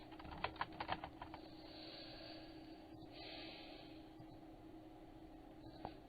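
Keystrokes on a computer keyboard as a chat message is typed, a quick burst of close, light clicks early on, then sparse taps over a quiet room hum.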